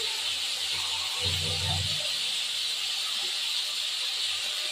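A soft, continuous sizzle of small fish frying in oil runs throughout, with a brief low clunk partway through.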